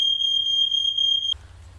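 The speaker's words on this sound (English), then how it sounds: "That was just my fire alarm going off as soon as we came out of the apartment here." A smoke alarm in an apartment sounds a loud, steady high-pitched beep for over a second, then cuts off abruptly, leaving a low background rumble.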